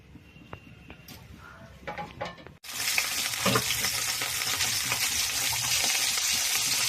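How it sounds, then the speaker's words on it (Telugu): Dried fish hits hot oil with a sudden loud burst of sizzling that settles into a steady, close, hissing fry, following a few quieter kitchen clinks and stirring sounds. "ఎండి చేపలు ఇవి కూడా ఫ్రై చేద్దాం"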